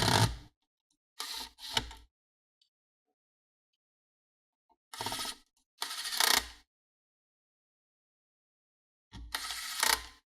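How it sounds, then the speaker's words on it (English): An electric automatic screwdriver with adjustable torque drives screws into a Dell Precision M6300 laptop during assembly, giving short whirring bursts separated by pauses: two quick runs early, two more mid-clip and one near the end. "this is an automatic screwdriver. It's meant for the laptop assembly."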